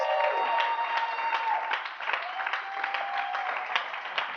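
A crowd at a leadership talk claps steadily, with a few cheers mixed into the dense, even applause throughout.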